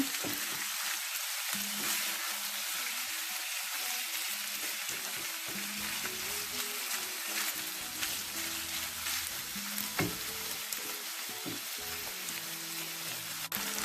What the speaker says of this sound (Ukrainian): тепер дамо, щоб м'ясо також зовсім трішки підсмажилося